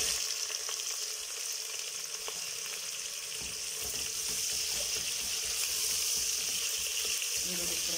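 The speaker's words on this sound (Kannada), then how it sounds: "ಈರುಳ್ಳಿ ಕೂಡ ಚೆನ್ನಾಗಿ ಎಣ್ಣೆಯಲ್ಲಿ ಫ್ರೈ ಮಾಡ್ಕೊಳ್ಳೋಣ" Onions fry in oil for a vegetable biryani, a continuous hissing sizzle at moderate level with faint scraping and clatter underneath and no voices.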